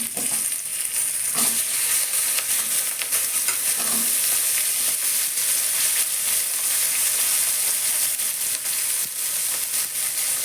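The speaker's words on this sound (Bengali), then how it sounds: "পেঁয়াজ কারিটা দিয়ে দিলাম কারণ গরম মশলা ভাজার গন্ধ বেরিয়ে গেছে" Onion paste fries with garam masala in a pan, a constant close, crackling sizzle with occasional stirring scrapes running throughout, and no one speaking.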